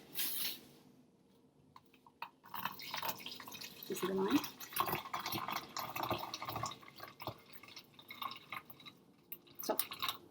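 Water poured from a container into a plastic bottle, splashing and trickling unevenly in fits and starts, fairly close, while people talk over it.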